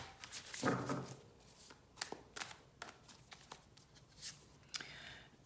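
Soft, close tarot card shuffling: papery riffles and scattered light taps in irregular bursts, quiet with no talking.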